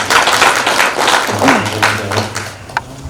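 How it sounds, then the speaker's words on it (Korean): Audience applause at a Korean cultural-center academic conference after a professor's lecture, a dense steady patter of clapping throughout, with a low hum in the room. "박수 보내드립니다."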